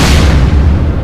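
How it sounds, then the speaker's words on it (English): A massive explosion as a sphere detonates in space, a loud, deep booming blast with a broad roar that holds strong through the whole moment. "the sphere detonates in a massive explosion"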